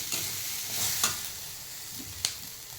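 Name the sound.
sautéing grated coconut in a pan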